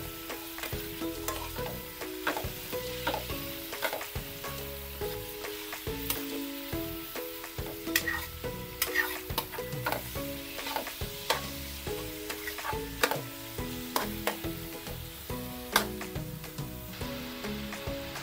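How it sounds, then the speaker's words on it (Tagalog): About 750 grams of pork belly sautés in a pan toward golden brown, sizzling continuously up close with frequent scraping stirs and light clatter, background music running beneath. "Igisa lang natin yan hanggang sa mag-golden brown yan."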